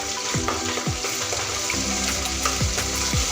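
Ginger-garlic paste sizzles loudly in a pan with softened onions for pav bhaji, a steady frying hiss broken by several sharp scraping stirs of a spoon against the pan.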